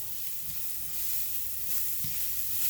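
Onions and peppers sweat in a hot pan with a steady, close sizzle, plus a couple of soft low knocks from the pan, for pepper steak Alfredo.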